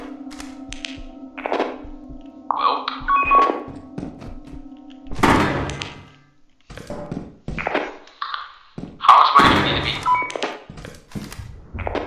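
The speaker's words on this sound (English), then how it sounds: "I just hear his neck get snapped" Neck snapping in the video game Lethal Company: a series of hard, close thunks and taps among electronic beeps and pings, with a sharp loud crack near the middle standing alone.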